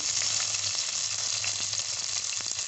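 Onions, green chilies and curry leaves with mustard seeds fry steadily in a pan, giving a continuous close, loud sizzle with faint crackles and occasional stirring scrapes, no voices.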